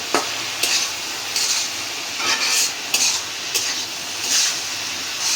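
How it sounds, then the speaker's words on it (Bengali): Bitter gourd stuffed with fish roe fries in oil with onion in a pan, a loud steady sizzle punctuated by regular bursts of stirring and scraping, about one every half second to second. "শুধু লবণ দিয়ে তেল পেঁয়াজ দিয়ে ভেজে নিব"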